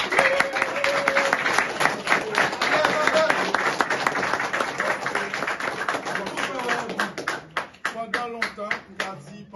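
A crowd in Cité Soleil, Haiti, applauds the reopening of Saint Catherine hospital, many hands clapping, steady and dense, thinning into scattered individual claps toward the end, with voices mixed in.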